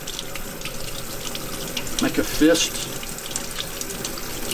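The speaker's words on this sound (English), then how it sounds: "Feel the water hitting my glove, the pressure of it, and running" Cold tap water runs steadily onto a waterproof winter glove. The splashing grows louder and more broken as the gloved hand moves in the stream, and a voice speaks briefly over it.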